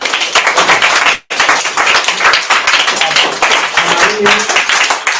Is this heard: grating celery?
no